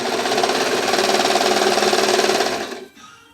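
A sewing machine or serger runs rapidly while hemming a t-shirt dress, a close, loud, fast even stitching buzz for almost three seconds before it stops abruptly.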